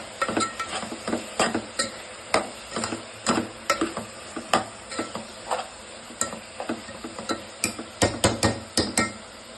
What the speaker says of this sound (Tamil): போட்டு எல்லாத்தையும் நல்லா மிக்ஸ் பண்ணிக்கலாம்